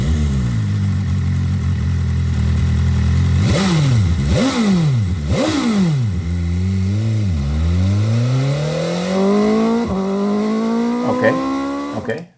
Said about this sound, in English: It has a button where you can start the engine.